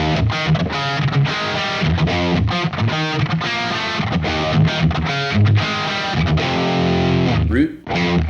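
Distorted electric guitar plays a rhythm riff, a loud, steady, chugging pattern of driving chords and dyads that continues unbroken before cutting off near the end.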